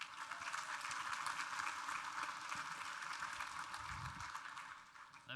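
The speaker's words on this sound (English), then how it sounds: "Round of applause, please, for Mitch." Audience applause at a forestry society talk, a dense, even wash of clapping from a room of people, fairly distant and steady throughout before tapering slightly at the end.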